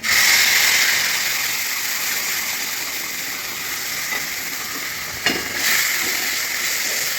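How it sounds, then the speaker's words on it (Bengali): Poppy seeds frying in hot oil with cumin already in the pan, a continuous close sizzle opening with a sharp burst, then settling into an even hiss broken by a brief clink of stirring. "চলো আমি এখন পোস্তটা তেলের মধ্যে দিয়ে দেবো"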